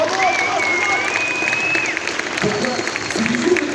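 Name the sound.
audience applause for Patrick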